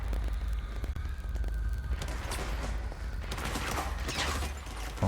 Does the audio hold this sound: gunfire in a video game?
yes